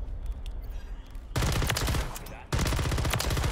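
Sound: RAM 9 gunfire in the video game Modern Warfare 3

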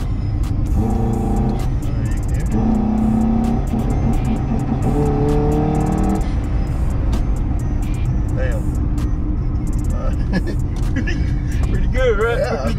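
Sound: modified 1000 HP Honda Accord engine revving

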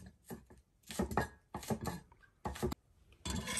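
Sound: knife cutting vegetables (scallion, cilantro) on a board

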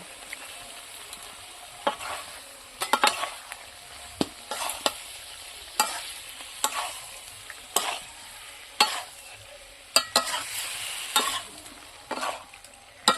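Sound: cauliflower and potato sautéing with spices and curd

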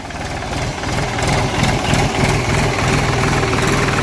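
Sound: tractor engine idling

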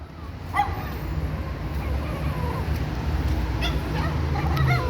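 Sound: dog barking

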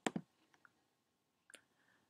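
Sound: mouse click on the Save icon

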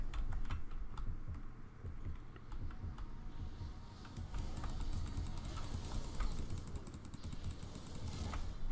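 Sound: mouse clicking while playing a video game

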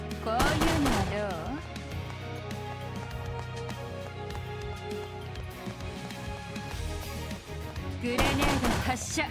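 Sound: grenade launcher firing in the video game StarWard

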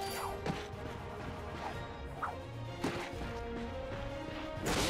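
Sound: wooden crates smashing, from a video game

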